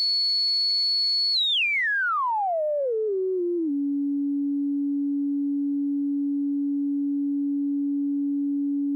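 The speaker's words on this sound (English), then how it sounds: "if we turn the resonance up all the way, we get a sine wave." A pure sine tone from a modular synthesizer filter self-resonating at full resonance sweeps smoothly downward from high to low pitch, then holds as a steady, loud, unwavering hum.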